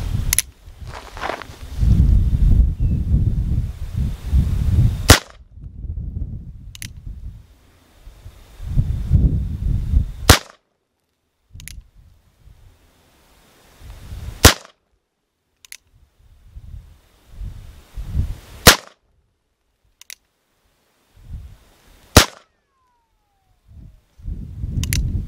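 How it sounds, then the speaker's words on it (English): A Cimarron 1851 Richards Mason conversion revolver in .38 Special fires about eight sharp, loud shots, spaced a few seconds apart, with handling noise and rustle between them and no talk. "I'm going to give this Cimarron 1851 Richards Mason conversion in 38 Special another shot."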